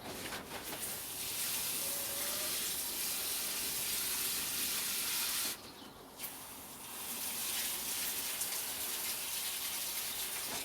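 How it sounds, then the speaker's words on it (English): Water running steadily from a hose or can onto newly planted plants in a UK allotment greenhouse, a continuous hiss that breaks off briefly midway and then resumes, with no talking. "Then we'll just water them in."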